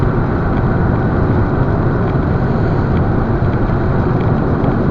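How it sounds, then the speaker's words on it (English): Steady, loud roar of wind and road noise inside a moving 2004 Ford Focus 1.8 manual, a dense broadband rush that holds unchanged throughout with no voices. "I mean the noise from the wind. It doesn't sound like it's too aerodynamic, this vehicle, at all"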